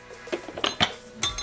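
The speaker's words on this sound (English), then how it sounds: "Those garlic cloves are starting to crush." A stone pestle crushes big garlic cloves in a mortar for basil pesto: a few sharp, close knocks and grinding scrapes spread unevenly over a second and a half, with no voices.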